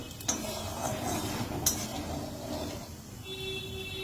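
Eggplant being stirred in hot oil with a five-spice tempering in a pan while cooking a Bengali drumstick dish: soft scraping and a couple of light metallic clinks, fairly quiet, with faint sizzling underneath.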